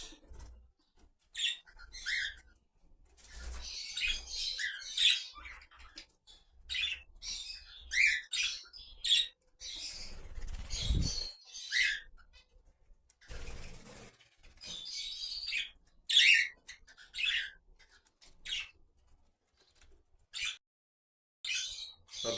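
Budgerigars in a mixed bird breeding colony give bursts of chattering chirps and squawks. The calls come in irregular clusters with short pauses between them, close and fairly loud.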